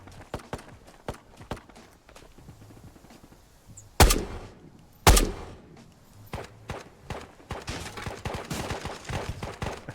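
Two sharp, loud gunshots from bots in Ghosts of Tabor, a VR shooter, crack about a second apart amid steady footsteps and scuffling movement, with further distant shots and clatter following.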